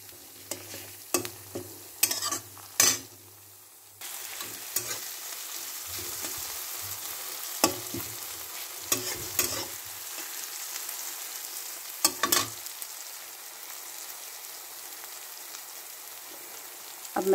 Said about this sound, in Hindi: टमाटर डाल रही हूँ, अब टमाटर को पकाऊंगी।